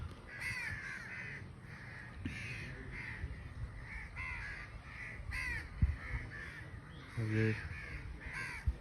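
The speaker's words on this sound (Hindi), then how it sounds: "सामने कौवे बहुत सारे आए हुए हैं इस वक्त।" A flock of crows caws repeatedly around a village beside a rice paddy, with harsh overlapping calls at mid distance over outdoor background noise while a person speaks briefly.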